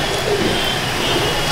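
Pigeons coo softly inside a Madrasi pigeon loft, a low, steady murmur of birds blended with background voices and general room noise.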